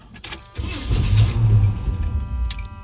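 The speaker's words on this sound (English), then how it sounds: "How much will it take to start the truck?" A blue truck's engine cranks and tries to catch after a few pedal pumps, a low rumbling churn building for about two seconds at moderate volume, with faint key and handling clatter at the start.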